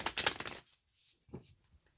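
A deck of tarot-style cards shuffled by hand, a quick riffling burst up close followed by quieter shuffles and a short second flutter.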